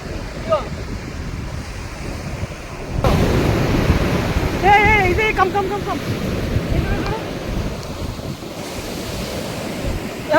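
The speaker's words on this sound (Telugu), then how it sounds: "అలలు అయితే పెద్ద పెద్ద వస్తున్నాయి" Large waves surge and wash in at Kakinada beach on the Indian coast, a steady roar with gusting wind over the microphone and a heavier swell rising partway through, while a voice calls out and people talk nearby.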